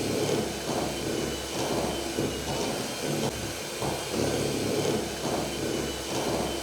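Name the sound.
electric mixer beating cream cheese, butter and icing sugar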